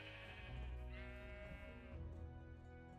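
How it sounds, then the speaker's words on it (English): Sheep bleating in a video game: one drawn-out, wavering bleat, fairly clear and close, with no speech over it. "Sheep."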